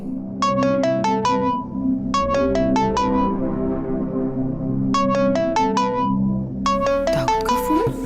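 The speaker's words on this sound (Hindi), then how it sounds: "सुबह किसका फोन आ गया?" A phone ringtone plays as a melodic electronic tune in repeated bursts of rising notes with short pauses between them, loud and close, over a faint low background.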